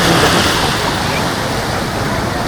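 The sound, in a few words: sea waves on Cox's Bazar beach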